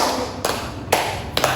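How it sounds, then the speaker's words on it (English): A child in an English-speaking interview claps their hands, three crisp, evenly spaced claps about half a second apart, close and distinct, with no talking during them. "Would you clap your hands 5 times?"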